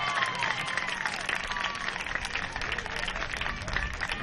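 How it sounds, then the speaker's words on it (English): Crowd at a youth T-ball tournament applauding the Brooksville team, steady dense clapping from many hands throughout, with faint voices mixed in. "Let's all give Brooksville a round of applause"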